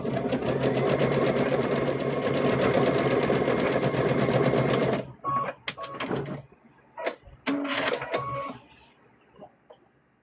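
A sewing machine stitches the top of a stuffed bear in one steady, close, continuous run for about five seconds, then stops, leaving scattered clicks and fabric handling sounds.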